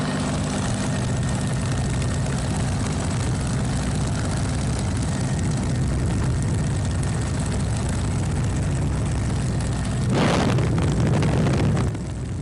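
Spitfire propeller aircraft on landing approach, its engine a steady, loud droning roar with a rough low throb, swelling briefly louder near the end.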